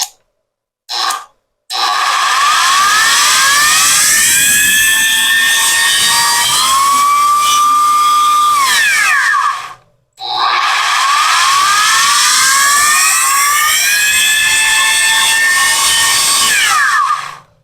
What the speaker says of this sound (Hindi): ड्रिल मशीन चल रही है लेकिन इसकी पावर इंतहाई कमजोर आ रही है।